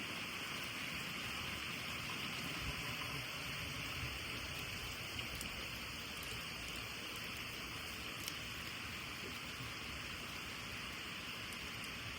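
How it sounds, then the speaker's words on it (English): Heavy rain from Hurricane Helene pours down in a steady, dense hiss that holds at an even level throughout, with no voices. "It's just a whole bunch of rain."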